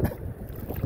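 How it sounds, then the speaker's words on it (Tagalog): Steady gusting wind buffets the microphone outdoors, with a low rumbling roar that rises and falls throughout. "Malakas ang hangin dito ngayon."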